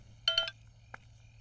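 A phone rings at low volume in a quiet room: a short burst of two or three quick electronic trills, then a single brief beep, with a faint steady hum underneath.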